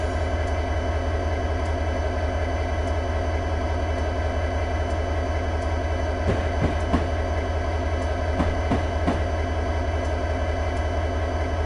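A train in Train Simulator 2013 on Marias Pass, Over The Top, rolls along with a loud, steady engine drone and layered hum, broken by a few sharp clanks and rattles in the later half.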